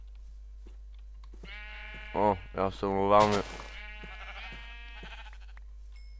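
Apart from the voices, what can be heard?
sheep bleating in a video game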